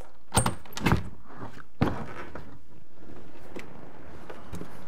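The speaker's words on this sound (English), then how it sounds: "Now I'm gonna take this door out and put it somewhere flat so I can work on it." A house door being lifted out of its frame gives a few sharp knocks and thunks in the first two seconds, then quiet shuffling and handling noise.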